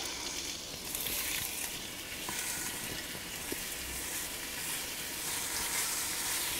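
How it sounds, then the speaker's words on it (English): Pork browning in hot oil in a Ninja Foodi sizzles, a constant crackling hiss with a few small pops, close and steady throughout. "We got a sizzle."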